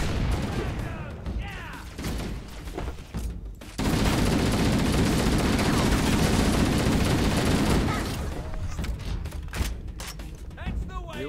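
Dense gunfire in the Halo CE video game, a sustained burst of rapid shots lasting several seconds in the middle, with scattered shots and players talking before and after.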